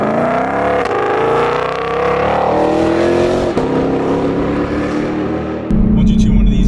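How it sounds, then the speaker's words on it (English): A supercharged Ford Shelby GT500 engine revs hard and loud up through its range, the pitch climbing steadily before dropping back to a rougher idle near the end. "you can really, really rev it out"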